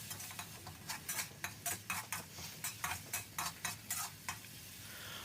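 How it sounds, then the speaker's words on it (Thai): Pounded spice paste stir-fried in oil in a wok for a water spinach and minced pork dish: a steady sizzle with rhythmic scraping strokes of a utensil, about two per second, close up and with no talking. "จากนั้นเราก็ผัดให้หอมเลยครับ"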